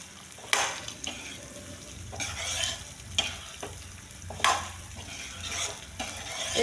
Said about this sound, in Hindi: अब इसको अच्छे से हम इसको भून लेंगे। अब फिर इसमें आटा डाल देंगे।